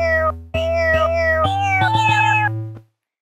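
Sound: cat meow samples played as a Tone.js instrument

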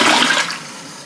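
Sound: toilet flush demonstrated in a travel bathroom

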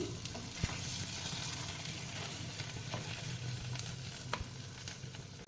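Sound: goat brain pieces frying in oil in a pan

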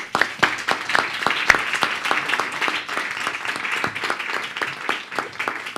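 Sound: audience applause

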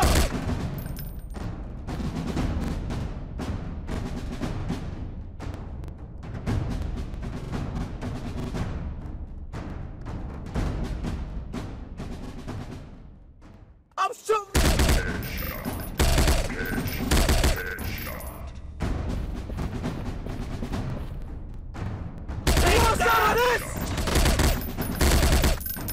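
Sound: gunfire from a mobile FPS shooting video game

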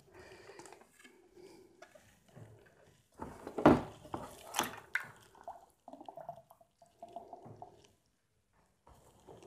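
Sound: rinsing hydration bladder tube in water

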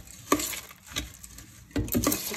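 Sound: mixing puffed rice with spice mix for bhel puri

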